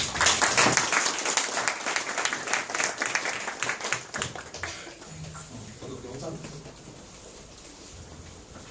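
A lecture audience breaks into sustained applause, dense and loud at first, then thinning out as the clapping fades and a voice begins speaking over it.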